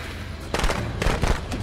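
Gunfire in Friday the 13th: The Game on Xbox One, with a few sharp, loud bursts separated by short gaps over steady in-game background noise.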